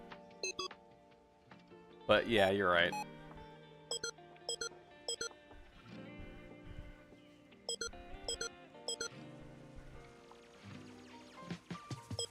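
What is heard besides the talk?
keypad beep sound in Unreal Engine 5 prototype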